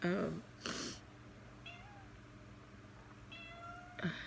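A pet cat meows a few times close up, short bright calls separated by quiet stretches, with brief speech-like bursts at the start and end.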